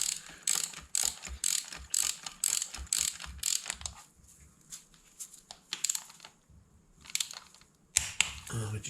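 A torque wrench ratchets and clicks in quick repeated bursts while tightening a bolt on a Corsa VXR engine, close and crisp, with brief pauses between runs of clicks and a few sharper clicks near the end.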